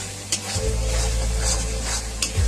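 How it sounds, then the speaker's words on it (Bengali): Pea, paneer and broccoli curry being stirred and fried in a pan, loud close scraping and sizzling with spoon strokes against the pan, no talking. "এটাকে নেড়ে ভালো করে কষিয়ে নিতে হবে।"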